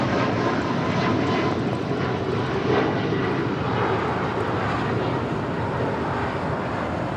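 An Air Canada Boeing 737 MAX 8 takes off from LAX runway 25 right, its jet engines producing a steady, broad, loud roar that holds without a break.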